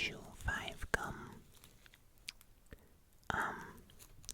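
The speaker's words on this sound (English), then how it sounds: "this is what it feels like to chew 5 gum" Wet, close-up chewing of 5 gum in an ASMR setting, soft smacking and clicking mouth sounds in irregular bursts amid quiet breaths and faint whispering.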